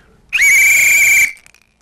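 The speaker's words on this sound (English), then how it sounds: "I wanted to blow my whistle for Bradley." A single shrill whistle blast, loud and close, held for about a second before cutting off abruptly.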